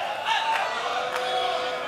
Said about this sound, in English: Crowd urging both of them on.